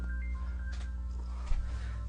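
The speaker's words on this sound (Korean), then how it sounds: "오늘 방송 중에 뭐 전화도 오고 난리도 아닙니다" A phone rings during a live airsoft-gun broadcast, a faint electronic ringtone chirping over a steady low hum, with no talking.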